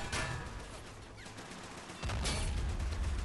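Tank crew gunfire in the Men of War game, a faint burst of rapid shots crackling low in the mix, then a heavier rumbling volley near the end.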